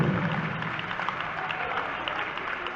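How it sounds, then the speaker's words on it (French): An audience in a hall at the final of a pala corta pro tour match applauds steadily, dense continuous clapping from many hands with faint crowd murmur underneath. "Je pense qu'il y a un très bon applaudissement"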